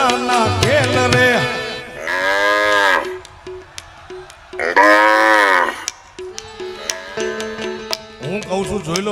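A folk stage performer vocally imitates a buffalo calf lowing. Two long, loud, drawn-out bellowing moos rise and fall, separated by shorter tonal sounds and brief pauses.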